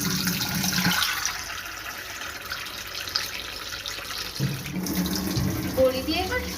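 Spice water poured into a simmering curry in a home kitchen, a steady liquid splash and trickle lasting several seconds, with a brief clatter near the end and no talking.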